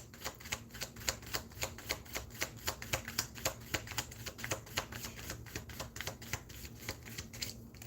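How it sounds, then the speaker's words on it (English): A deck of playing cards is shuffled in a rapid riffle, a regular run of crisp flicking clicks lasting several seconds, close and alone with no talk. "We're going to do one more shuffle to see."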